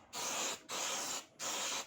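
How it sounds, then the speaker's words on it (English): An aerosol can sprays a light coating onto a printed paper sheet for card model buildings, in three steady hissing bursts with short gaps between them. The spray is close and there is no talk. "So we just want to spray it lightly from above."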